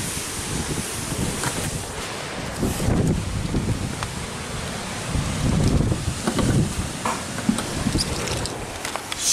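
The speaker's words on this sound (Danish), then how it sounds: "Det blæser helt vildt derude." Strong wind blowing outdoors at a summer house, a loud continuous rumbling buffet against the microphone with gusts swelling and easing, with no talk.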